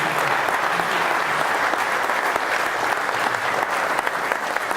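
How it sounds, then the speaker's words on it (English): Audience applause for the speakers at the close of a long conference day, a dense, loud and continuous wash of clapping from a large crowd that holds steady throughout. "I want to just give a round of applause for all the speakers and the guys"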